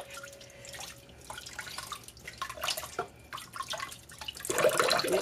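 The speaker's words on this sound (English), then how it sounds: "we're just basically taking our hands, washing the butter until the water runs clear" Homemade butter is washed by hand in water, with wet splashing, squelching and dripping sounds up close that build to a busier, louder sloshing toward the end, and no talking.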